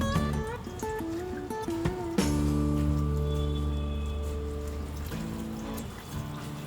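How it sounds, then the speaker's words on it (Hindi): Water runs steadily from a tap over roughly chopped fenugreek leaves sitting in a strainer, a continuous close rushing wash with a few clinks at the start. "इसे हम 2-3 बार अच्छी तरह से पानी से धो लेंगे।"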